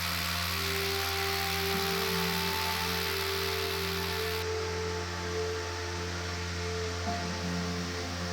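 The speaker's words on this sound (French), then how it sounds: "percer un trou dans la roche pour y insérer un goujon" A power drill bores a hole into cave rock to set a bolt for climbing, giving a loud continuous grinding whine with a steady hum that shifts slightly in pitch.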